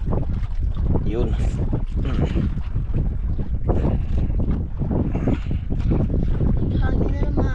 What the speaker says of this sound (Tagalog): Hangin na naman.